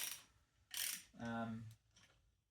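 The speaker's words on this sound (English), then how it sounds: "Okay, socket wrench." A socket wrench ratcheting on a spark plug in a BMW Z4 E85 engine bay, close and faint, with quick clicking strokes and a whirring ratchet run between them, no voices.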